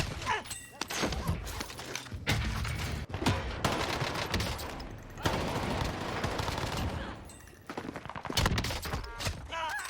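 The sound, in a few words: heavy gunfire in Call of Duty: Warzone video game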